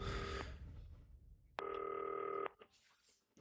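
A telephone rings in the broadcast studio of the game Not For Broadcast. One short ring is followed by a pause and then a longer, steady ring, with some faint background noise and no talking.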